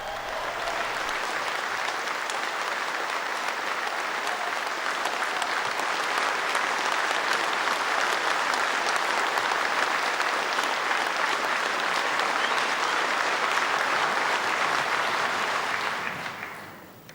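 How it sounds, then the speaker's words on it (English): A large conference audience applauds as Margaret Thatcher takes the stage, sustained loud clapping that holds steady for about sixteen seconds before tapering off. "Let's hear her applause."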